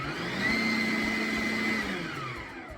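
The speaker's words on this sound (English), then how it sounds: "we're gonna blend up the flour and the salt" Steady whirring drone of a food processor blending flour and salt for homemade puff pastry, close and continuous with a slight rise and fall in pitch, no talk.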